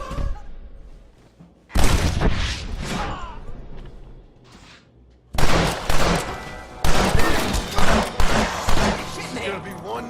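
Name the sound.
gunfire in a shootout, from video game Red Dead Redemption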